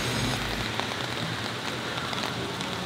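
Steady rain patters on surfaces at Universal Orlando's Islands of Adventure theme park, a dense close hiss with scattered drop ticks, continuous and without voices.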